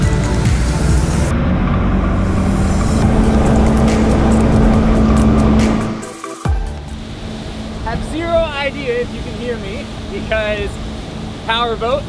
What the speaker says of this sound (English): Boat, it's loud, the wind is loud, we're going at 28 miles per hour.